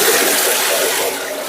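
A bucket of water is poured into a septic tank drain in one continuous, loud, close gush that tapers off slightly toward the end.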